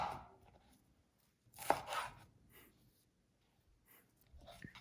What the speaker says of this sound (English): Lay the pepper on the cutting board and slice into strips.